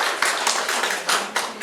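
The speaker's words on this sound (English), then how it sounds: "Please clap for yourself right now." Workshop audience of teachers clapping in quick, uneven bursts, a room's worth of hands close by with no talk over it.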